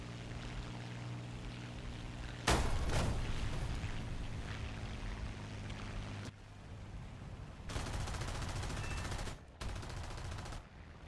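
Bursts of gunfire in War Thunder, a sharp loud shot followed by several sustained rapid volleys separated by short gaps, over a steady low battlefield rumble.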